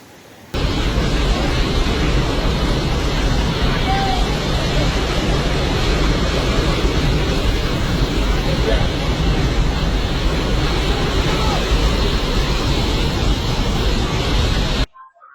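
Waterfall about 300 metres tall on the route to Jomsom in Myagdi district, Nepal, a steady loud broadband roar of falling water that holds unbroken throughout, with no voices heard.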